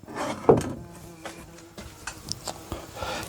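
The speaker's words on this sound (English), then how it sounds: "I'm inside and I've still got bloody wasps." Wasps buzzing indoors around a bow vice setup: a faint, intermittent insect drone with a louder thump near the start and scattered small knocks, no talk.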